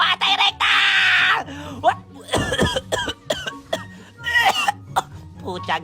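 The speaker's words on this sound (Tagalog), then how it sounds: "inuubo na ako" A person coughs repeatedly in harsh, uneven bursts, with groaning and strained breaths between them, close and fairly loud.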